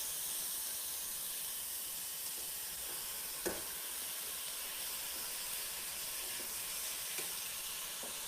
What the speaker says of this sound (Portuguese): Vamos deixar isso refogar bem.